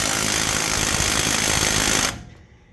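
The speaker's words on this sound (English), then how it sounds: "as you watch with my Craftsman impact here," A Craftsman cordless impact wrench hammers steadily on a truck CV axle nut on a 1990 Chevy K1500, a loud continuous rattling burst lasting about two seconds before cutting off abruptly.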